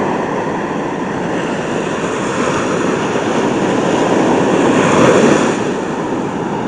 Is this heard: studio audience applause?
no